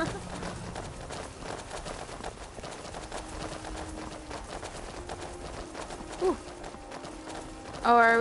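Horse hooves clop in a steady galloping rhythm in the VR video game Skyrim. The hoofbeats are quiet and run under ambient game sound, ending with a brief louder burst of other noise.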